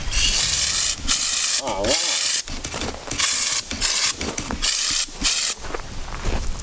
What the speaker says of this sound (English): This is also my first time ever using an underbody gun and a urethane paint